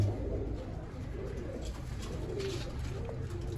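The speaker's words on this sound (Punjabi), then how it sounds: "ਓਨਲੀ 11 ਕਬੂਤਰ ਰਹਿ ਗਏ ਜੀ ਖੁੱਡੇ 'ਚ" Pigeons in a coop coo softly and repeatedly at close range, a low throaty murmur over a dense, continuous background.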